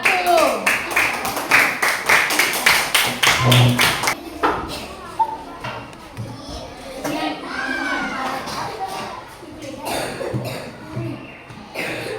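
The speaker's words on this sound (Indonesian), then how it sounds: "berikan tepuk tangan untuk kelompok 1" A group of children in a classroom claps together for group 1, a fast, loud run of rhythmic claps that gives way to chatter and shuffling.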